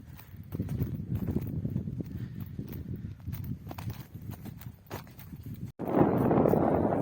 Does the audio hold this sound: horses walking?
yes